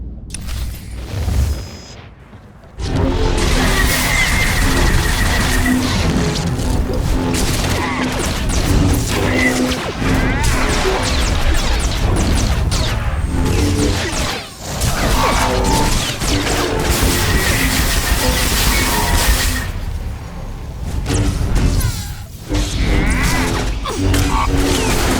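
Droids fire their weapons during a full assault in the Star Wars: The Old Republic game on Taris, with dense, loud, continuous blaster fire and crashes over a steady roar.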